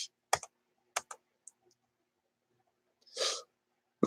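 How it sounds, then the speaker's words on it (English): Bursts of computer keyboard typing come in short clusters of clicks separated by quiet gaps, with a soft breathy rush partway through. "I'm going to type in MGTOW live"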